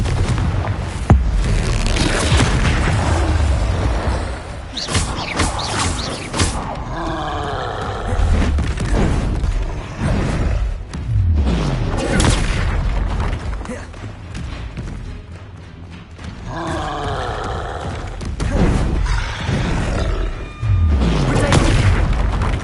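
Bombarda and Confringo spell explosions in the video game Hogwarts Legacy boom and roar repeatedly, loud and dense, with blasts and rumbling thuds bursting one after another over game music and shouted voices.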